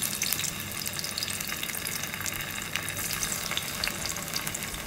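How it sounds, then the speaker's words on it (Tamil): Potatoes shallow frying in a little oil in a pan give a steady, moderately loud sizzle with fine crackle throughout, with no voices. "இது நம்ம ஷாலோ ஃப்ரை தான் பண்ணுறோம்"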